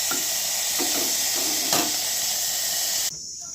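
Steady sizzling of vegetables frying in a pan, with a few light stirring scrapes, cutting off abruptly near the end.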